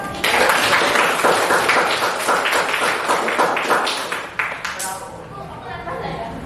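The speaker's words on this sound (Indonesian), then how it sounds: "kelompok putri kita beri tepuk tangan dong" Classroom students applaud the girls' group, a burst of brisk, scattered clapping from many children that thins out toward the end, with voices chattering underneath and a teacher speaking as it fades.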